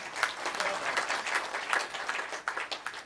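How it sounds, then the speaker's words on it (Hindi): Applause from the audience at a mushaira poetry gathering in Kenya, a dense, steady wash of many hands clapping for about three seconds with no voices over it. "ये मेरा वसीम भाई के लिए तालियां इस बात के लिए।"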